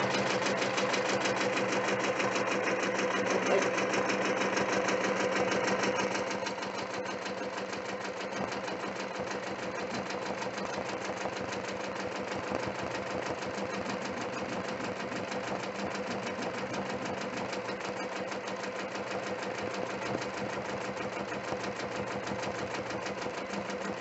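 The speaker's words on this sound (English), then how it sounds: "This is like my favorite part to do, is watch the machine stitch it out," An embroidery sewing machine stitching out letters hums and chatters steadily in a continuous mechanical drone, slightly louder at first and then even, with no one speaking.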